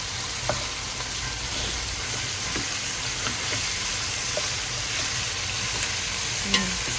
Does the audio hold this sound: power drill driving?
no